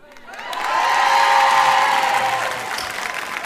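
An audience at a stage comedy show breaks into applause, swelling from quiet to a full, steady clatter of clapping with a few cheers, then tapering off.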